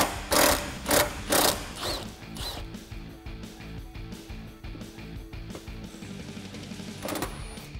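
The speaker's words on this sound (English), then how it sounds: "with a 10mm deep socket and an extension, we're just going to remove these two nuts here" A ratchet with a 10mm deep socket and extension loosens nuts on a Jeep Wrangler JK, opening with several loud bursts followed by a steady run of rapid, close clicking.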